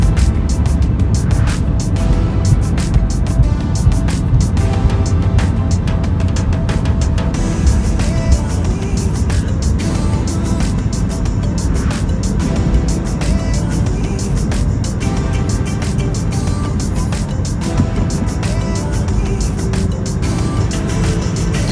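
An easyJet airliner taxiing at Gatwick Airport after landing, heard from inside the cabin as a loud, constant low engine rumble and drone that stays steady throughout without voices.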